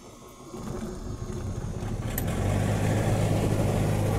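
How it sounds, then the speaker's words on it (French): A cold car engine cranks briefly, catches and settles into a steady, close idle that grows slightly louder and smoother over several seconds, with no talking. "Quand le moteur est froid, il met toujours du temps."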